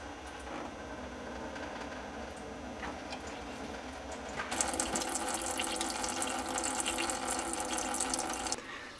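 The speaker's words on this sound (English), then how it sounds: "while that's draining coolant" Coolant draining from a 1998 Chevy S10 with a 4.3 Vortec V6, heard as a faint steady trickle that swells into a fuller splashing pour halfway through, with no talk.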